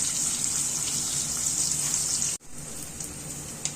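Chopped onions frying in a pan with a little sugar and paste while cooking malai chicken, a steady loud broadband sizzle that runs throughout with a brief dropout partway, no talking.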